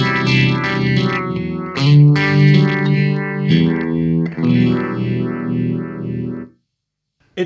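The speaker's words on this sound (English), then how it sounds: "for this particular pedal, a Xvive emulator" Electric guitar through an Xvive emulator pedal with tap tempo, distorted chords with a wavering chorus-like shimmer and echo repeats, loud and close, ringing steadily before stopping abruptly near the end.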